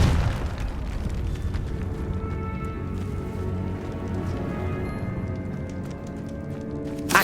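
A Confringo blasting spell goes off in the Hogwarts Legacy video game, a dense booming explosion that rolls on steadily for several seconds amid layered game effects and music, with no talking.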